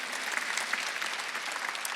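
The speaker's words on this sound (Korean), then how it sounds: "박수를 하나 주세요" A church congregation at a Sunday worship service claps together in steady, dense applause for a couple of seconds, evenly loud throughout with no distinct voices.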